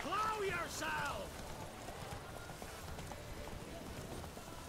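Horse hooves pound in a rapid gallop in The Witcher 3 during combat, a steady drumming rhythm heard under shouted voices and some combat noise at the start.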